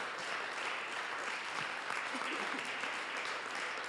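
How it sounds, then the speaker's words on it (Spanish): A church congregation at a worship conference session gives steady, sustained applause, a soft and fairly distant wash of clapping with faint voices mixed in. "Dale un fuerte aplauso al Señor."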